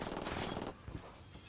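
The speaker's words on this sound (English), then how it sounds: "Who the hell just shot at me?" A quick burst of automatic gunfire from the tactical shooter game Ghost Recon Wildlands rattles briefly and fairly quietly, then drops to a low background.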